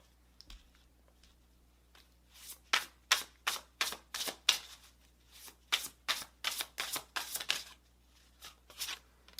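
Tarot cards riffled and drawn from a deck, a steady series of crisp papery snaps and flicks, close and fairly quiet, with no talking.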